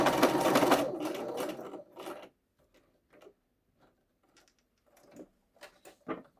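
A home sewing machine stitches fabric for men's boxer shorts in a loud steady burst of about two seconds, then stops; a few short quiet taps and clicks follow.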